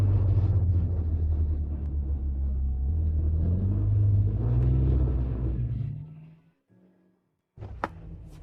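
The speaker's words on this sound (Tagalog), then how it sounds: "Iparada mo ang kotse." A car rumbles along at low speed with a deep, steady engine drone that shifts a little, then dies away to near silence as it parks, followed by a few short knocks.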